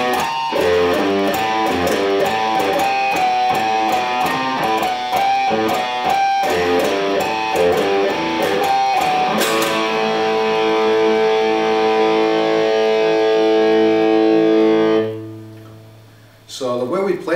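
A distorted electric guitar plays a riff in a fast, chugging repeated pattern, then lets a final chord ring out for several seconds before cutting off. It sounds loud and close with no talking.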